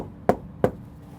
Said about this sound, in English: They knock